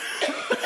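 A young child, who has been sick with a sore throat, gives two quick, harsh coughs close to the microphone in a brief burst.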